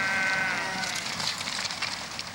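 A flock of sheep bleats in overlapping, layered calls at moderate distance, a dense continuous chorus with no talk.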